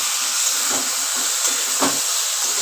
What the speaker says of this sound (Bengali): এবার আমি ভালো করে কষাবো লাউটাকে